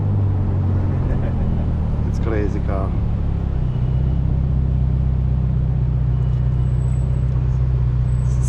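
A 2022 Ferrari Portofino on the road near Maranello gives a deep, steady engine drone that swells slightly midway, heard from inside the car while people talk over it.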